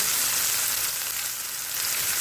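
A steady, bright sizzle of ginger and garlic frying in hot oil, continuous and close, with no voices.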